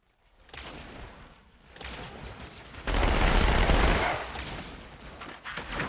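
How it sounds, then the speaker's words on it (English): Rapid SMG gunfire in Halo 2 Anniversary, dense sustained bursts that swell loudest midway and then ease off, with no talk over them. "Yeah, another SMG. Perfect."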